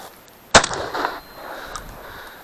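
A single sharp shotgun blast rings out during a duck hunt outdoors, a loud crack trailing into a short echo, followed by quiet ambient noise.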